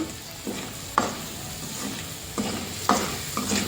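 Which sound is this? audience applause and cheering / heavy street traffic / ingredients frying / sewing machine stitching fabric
ingredients frying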